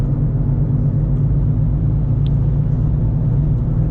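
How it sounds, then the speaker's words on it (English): A school bus rumbling along on a cold morning, a steady, loud low engine drone without clear rise or fade, no voices. "Here's the schoolie bus."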